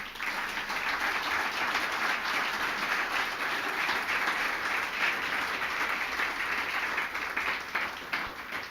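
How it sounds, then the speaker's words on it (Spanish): A church congregation applauding the Lord during a Spanish-language service; strong, sustained clapping from many people, steady and fairly close, continuing without pause. "¿Podemos darle un fuerte aplauso al Señor?"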